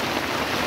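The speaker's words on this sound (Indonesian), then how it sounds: "Hujan deras guys" Heavy rain pouring steadily, a dense, even hiss with no breaks, on a fishing platform at Tanjung Kait, Tangerang.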